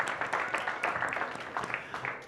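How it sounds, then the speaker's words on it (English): Audience at a talk on ethics and diversity in machine learning claps briefly, a soft, fairly distant patter of many hands that stays steady and then starts to fade. "Yes, please clap for me for that."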